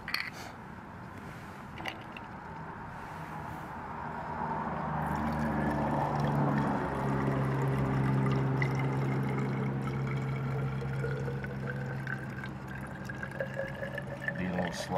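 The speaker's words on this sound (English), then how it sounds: "Let's measure out 60 milliliters of fuel." Stove fuel is poured into a measuring container, a thin continuous trickle rising in pitch as the container fills over several seconds, with a person talking softly nearby.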